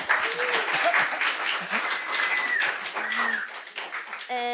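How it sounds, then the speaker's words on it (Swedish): A studio audience on a Swedish TV talk show bursts into dense, sustained clapping after a guest's song. The applause is loud and close, with a few cheers and voices mixed in. "Applåder!"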